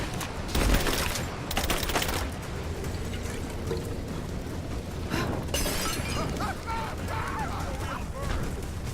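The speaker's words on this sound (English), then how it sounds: "Throwing a grenade! Fire in the hole!" A grenade detonates in the video game Rise of the Tomb Raider, a loud crashing, shattering blast with rumbling debris, followed by steady battle noise and a voice talking over it.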